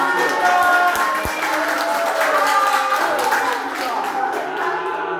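A small church congregation claps at a worship service, a short burst of close applause that thins out toward the end.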